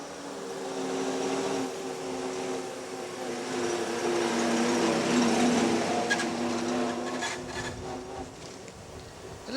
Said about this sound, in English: the reason the car was originally named the Silver Ghost was because of the quietness of its engine